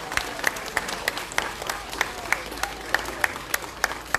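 An audience at an American Days event in Soroca claps for the ambassador, a steady round of dense applause with sharp individual claps standing out close by.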